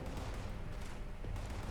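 A charged Gauss shotgun shot in Fallout 76, a loud, broad blast rolling into a sustained crackling roar across the whole moment, with a second sharp burst near the end and no talk.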